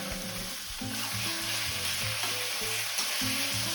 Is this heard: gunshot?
no